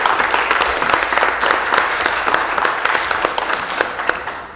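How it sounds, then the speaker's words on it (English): Applause from an audience in a legislative chamber, a dense, steady burst of many hands clapping that fades slightly toward the end, fairly loud and close. "I'd like to give him a round of applause for all his hard work."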